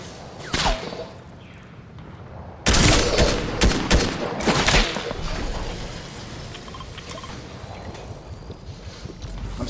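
Fortnite gunfire crackles in bursts of sharp shots, a couple early and a dense volley a few seconds in, then tapering into scattered pops over a windy, rushing background.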